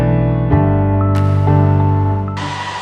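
Steady, loud motor whine with a strong tonal hum from electric jack legs on a truck camper lowering to lift the camper off the truck on uneven gravel, shifting pitch slightly, with brief clunks before the motor drops off.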